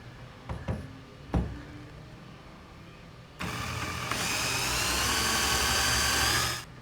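A power drill boring holes around a metal tube for a Skybolt paramotor frame, a steady loud whirring run of about three seconds after a few short knocks and clicks.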